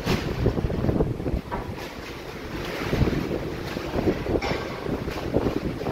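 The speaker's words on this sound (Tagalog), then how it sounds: "malakas pa rin yung hangin" Strong wind from Typhoon Uwan in San Juan, Metro Manila roars and buffets the microphone in heavy, surging gusts, with a rushing, water-like wash throughout.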